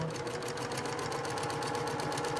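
A sewing machine stitches continuously while chain piecing half-square-triangle quilt blocks, a steady fast needle rhythm running close and evenly throughout with no talk.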